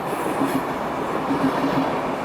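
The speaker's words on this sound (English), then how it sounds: "There's another train!" A train rolls past close by on the railway, with a loud, continuous rushing rumble and faint clicking of wheels over the rails throughout.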